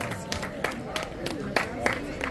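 A crowd applauds the runner-up at an autumn cycling race award ceremony in Lonate Ceppino, Italy, with a series of scattered, moderately loud claps under a steady murmur of voices.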